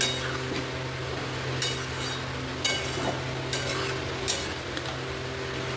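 Whole onions and whole chillies fry in a pan, a steady sizzle under a few sharp clinks and scrapes of a utensil stirring, with no voices.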